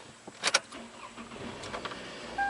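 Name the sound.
car engine starting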